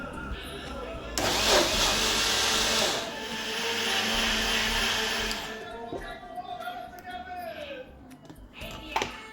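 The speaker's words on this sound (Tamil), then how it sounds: "நான் 8 eggs எடுத்து கொஞ்சம் கொஞ்சமாக மிக்சியில் போட்டு சுகர் ஆட்" A mixer grinder whirs loudly for about four seconds as it blends eggs and sugar for watalappam, then cuts off, with a voice talking around it.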